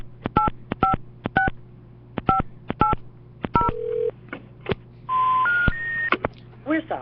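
A telephone dials the White House with a quick run of short touch-tone keypad beeps in irregular groups, followed by a few longer, rising steady tones.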